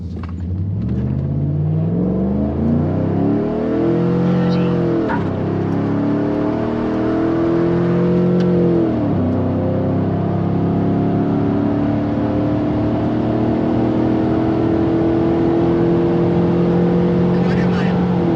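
A 5.3-litre truck with a Superchips Flashpaq tune pulls hard through a quarter-mile run, its engine droning loud and close inside the cab, rising in pitch through each gear, dropping at the shifts, then holding a steady high cruise.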